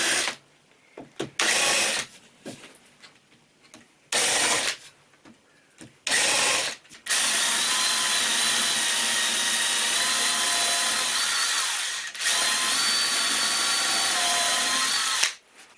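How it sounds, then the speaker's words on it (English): A power drill countersinks screw holes in timber for a floating shelf's legs, first in several short bursts, then in a long steady whining run that dips briefly and resumes before cutting off. "To ensure I don't split the timber, I'm putting countersinks in the holes."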